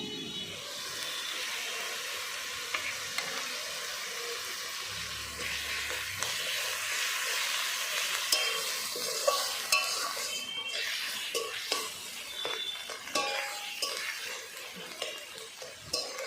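Garlic and ginger frying together in a little oil, stirred: a steady close sizzle with intermittent scrapes and clinks of a utensil against the pan, no talking.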